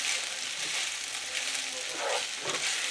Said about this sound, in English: and start searing that right in. And all that flavor from the onion and the sausage.